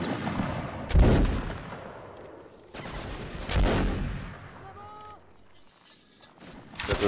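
Musket volleys in a line battle video game: two loud, broad blasts a few seconds apart with rumbling tails, then a fainter crack, all close and prominent.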